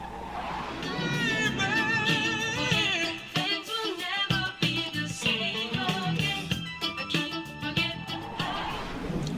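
An electric guitar riff plays with a band backing, busy and full, with bending melodic lines running throughout at steady loudness.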